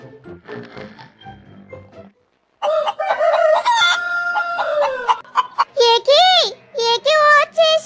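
Cartoon chickens cluck loudly and crow with a long cock-a-doodle-doo, mixed with animated character voices talking in bursts.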